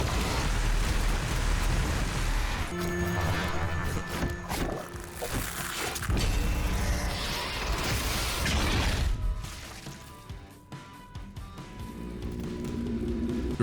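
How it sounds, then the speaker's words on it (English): Combat from the shooter game Doom Eternal: dense, loud explosions, crashes and roaring demon noises layered over a driving soundtrack, continuous and chaotic, then thinning out briefly before building again. "The roaring explosions and bone-crushing sounds of the demon horde make you feel like you are really there."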